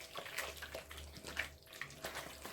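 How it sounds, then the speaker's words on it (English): Water poured from a container over soursop pulp in a bowl as it is massaged by hand, a soft, close, intermittent splashing and sloshing with quiet wet squelches. "Just put some water on it like so."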